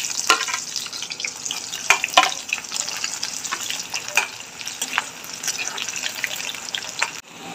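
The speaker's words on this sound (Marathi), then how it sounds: "1 कांदा कट करून घेतला, तो टाकून घेऊ।" Chopped onion hits hot oil with cumin seeds in a kadhai, giving a soft steady sizzle broken by sharp clicks and scrapes of stirring.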